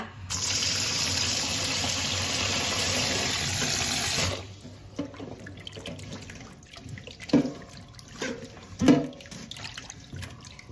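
Pork ribs are rinsed under a running tap, with water gushing loudly into a sink for about four seconds before stopping, followed by quieter handling sounds with a few splashes and knocks.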